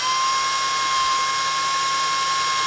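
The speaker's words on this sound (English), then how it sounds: "There's actually a divot in the bottom of these holes, which is where the drill bit will poke into." Drill bit boring holes into the plastic case of a Commodore 64 during a refurbishment, a steady high-pitched whine with a sustained tone, close and loud, continuous throughout with no talking.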